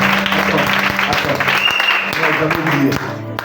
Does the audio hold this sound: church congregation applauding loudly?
yes